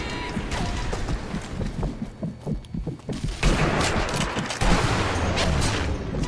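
Rifle gunshots in Sniper Elite V2, fired during a museum level battle: several sharp, loud shots and scattered distant firing amid heavy background noise, with no voices.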